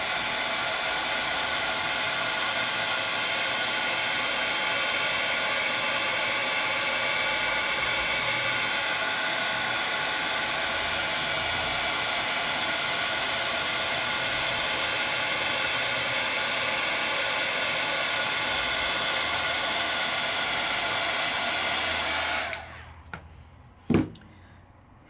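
A heat gun blows a steady, loud, broadband roar across gilding flakes, running continuously for about twenty-two seconds before cutting off abruptly, followed by a couple of sharp clicks or taps.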